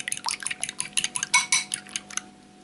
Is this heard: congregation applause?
no